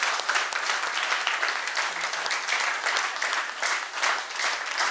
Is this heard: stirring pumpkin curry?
no